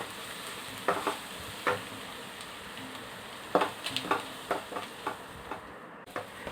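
Masala with garam masala, coriander powder and coriander leaves is sautéed for a mushroom fry: bursts of spatula scrapes, some single and others in quick runs, over a low, steady sizzle.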